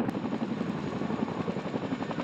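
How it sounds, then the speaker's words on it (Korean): UH-60 and Chinook military helicopters approach and set down at an airfield in Hongcheon, Gangwon Province, during an exercise: a steady, dense rotor drone with pulsing blade chop, moderately distant and continuous, with no voices. "UH-60과 시누크 헬기가 목표 지점으로 다가옵니다."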